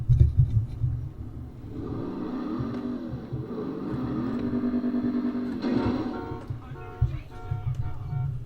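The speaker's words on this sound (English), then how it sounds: "You guys could probably hear the car and stuff revving in the game" A video game's car engine drones and revs in rising and falling pitch, fairly faint with some thumping bursts, heard through an old TV-radio speaker in a room.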